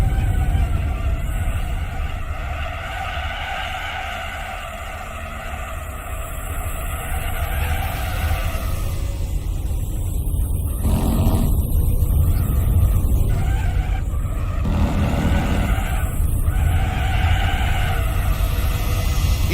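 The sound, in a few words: turbo spooling on a stock car in video game Gran Turismo 4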